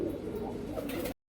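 Madrasi kalsara pigeon with a full-coloured neck cooing up close, a low throaty burbling that runs steadily for about a second before cutting off.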